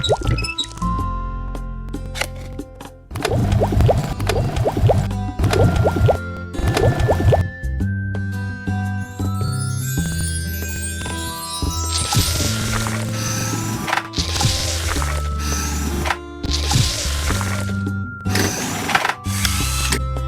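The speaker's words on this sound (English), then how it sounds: "Turn on the machine and mix heavy cream and condensed milk." A cartoonish game ice cream machine mixes heavy cream and condensed milk with loud bubbly dripping, squishy pouring and whirring mechanical effects layered over bright, continuous background music.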